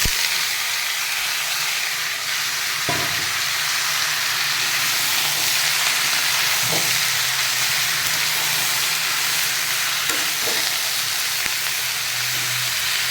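Tomatoes go into hot oil with popped mustard seeds, giving a steady, close hiss of sizzling that runs throughout with a few soft knocks and stirs.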